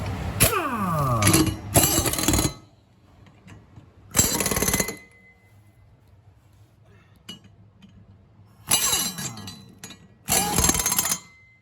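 Cobalt impact gun working on a Hustler mower, several loud rattling bursts of hammering close by, separated by quiet pauses with faint metallic clinks.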